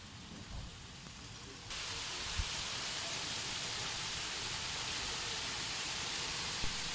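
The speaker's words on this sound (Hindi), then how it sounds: "शाम को बारिश आनी थी, अभी आ गई।" Rain falling outdoors on an evening, a steady broad hiss that thickens and grows louder partway through, with occasional drops and no talk.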